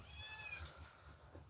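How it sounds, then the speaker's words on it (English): A cat meowing loudly: one drawn-out, wavering meow near the start over a low hum of background noise, fairly faint overall. "that cat just keeps on screaming his mean merry head off"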